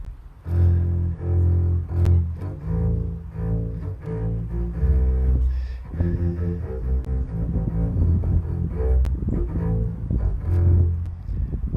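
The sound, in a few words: double bass playing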